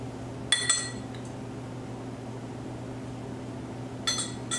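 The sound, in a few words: cherries placed in cocktail glasses with a bar spoon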